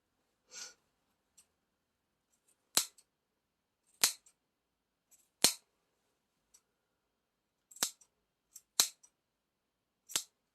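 Scissors snip notches into the seam allowance of quilted fabric while a padded vest is hand-sewn. About a dozen crisp, isolated cuts come at irregular intervals, close and clear, with near silence between them.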